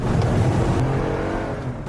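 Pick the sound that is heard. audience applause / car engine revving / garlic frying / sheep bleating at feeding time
car engine revving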